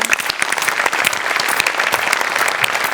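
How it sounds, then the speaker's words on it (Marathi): A studio audience at a Marathi comedy show applauding the performers; dense, loud clapping that stays steady throughout, alone without talk. "एकदा सगळ्यांकरता टाळ्या होऊन जाऊ दे"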